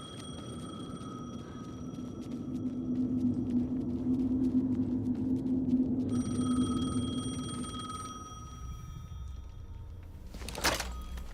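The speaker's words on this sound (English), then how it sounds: "The phone again." A telephone rings in the game Alan Wake 2: a steady tonal ring over a low droning ambience for several seconds, cutting off before a short knock-like thud near the end, with no talking.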